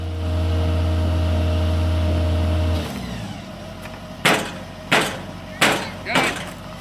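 A pile driver drives the first column at a station construction site: a loud, steady engine drone cuts off, then four heavy hammer blows land in an even rhythm, each ringing briefly.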